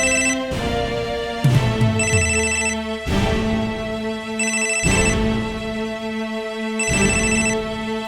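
A telephone rings in repeated electronic bursts with short gaps between them, loud and close, over a low sustained tone.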